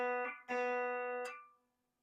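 A couple of plucked guitar notes ring out, one cut short and restruck, then sustaining and fading away; close, quiet, no voices.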